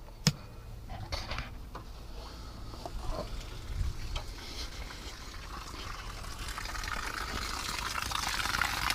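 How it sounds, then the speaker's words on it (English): A bilge pump on a Starcraft fishing boat pushes out water in a steady, gushing splash that grows slightly louder over time, with a few clicks and knocks early on and no talk. "Let's turn the bilge pump on."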